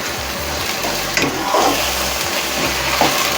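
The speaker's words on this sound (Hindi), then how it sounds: "इसे चलाएं अच्छी तरह से" Black-eyed peas and mince being stirred in a pan, a steady sizzle with scraping spoon strokes throughout, close and fairly loud.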